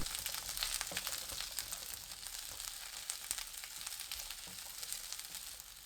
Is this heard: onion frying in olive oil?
yes